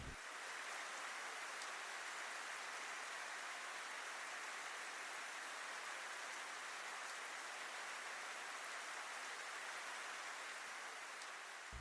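Steady soft patter of light rain over a village, a continuous even hiss of drizzle with no voices, holding constant and fairly faint throughout.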